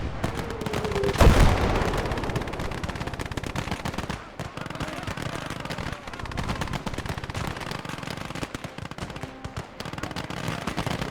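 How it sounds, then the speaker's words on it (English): Howitzer artillery in the Gates of Hell game booms with one loud near blast, then a dense rattle of distant gunfire and explosions carries on throughout. "More enemy, and more howitzer action."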